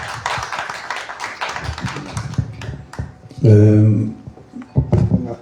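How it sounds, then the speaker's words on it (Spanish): An audience at a book fair presentation claps for the presenters, a brief burst of applause amid scattered taps, followed and preceded by talking. "Fuertes palmas para ellos, por favor."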